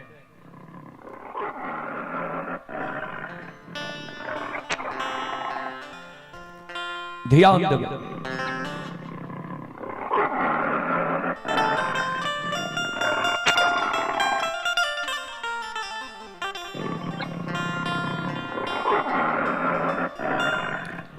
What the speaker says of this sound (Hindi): हजारों बाघ बाघिन वो जंगल में हुमरे